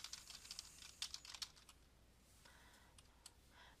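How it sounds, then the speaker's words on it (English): Quick bursts of computer keyboard typing while entering text in a quiz question editor, clusters of close, crisp key clicks that thin out into a few scattered taps. "and began typing"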